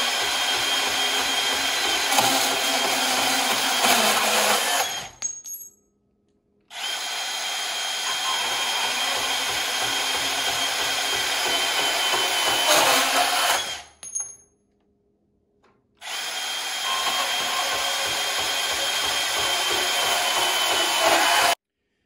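A Milwaukee M18 FUEL compact cordless bandsaw cuts through 1-inch steel angle iron, 1/8 inch thick, with a loud steady grinding whine in two long cuts split by brief pauses, and no voices.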